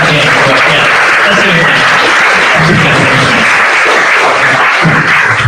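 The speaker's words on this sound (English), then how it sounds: "We get a round of applause." Audience applause at a Musicians' Union Q&A, a loud, dense, steady wash of clapping that fills the whole stretch without any clear break.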